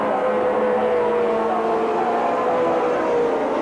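Group C touring cars racing at Sandown Raceway in 1984, a BMW among them, give a steady, dense engine drone that holds at an even loudness throughout, with no pauses and no clear voices.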